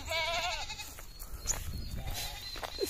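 Goats bleating on a Philippine farm lot, a wavering bleat up close at the start followed by fainter calls, with outdoor background noise and no talking.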